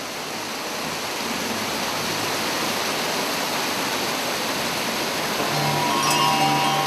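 A thin mountain stream of snowmelt off La Chung Hill, 8,591 feet up in the Himalayas, rushing in a loud, steady wash, with a few faint clinks and tones near the end.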